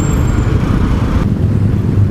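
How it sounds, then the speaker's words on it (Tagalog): Steady road traffic rumbles near a port-bound road with a queue of large trucks, a continuous low engine drone with passing-vehicle noise and no distinct events. "Traffic."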